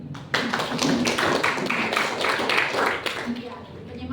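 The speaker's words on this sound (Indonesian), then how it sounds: "Kasih aplaus." Students applaud in a classroom, a dense, steady patter of clapping that lasts about four seconds, with voices mixed in.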